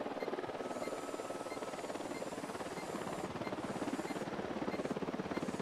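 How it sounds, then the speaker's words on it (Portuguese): Steady helicopter rotor thumping throughout, a fast rhythmic chop with a whining engine, fairly loud and constant with no voices, in the video game Ghost Recon Wildlands. "Helicóptero chegando."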